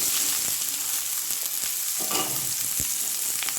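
Young jackfruit fries in a hot pan with ginger, a dense, loud sizzle that stays even throughout, punctuated by a few sharp stirring clatters, close and without voices.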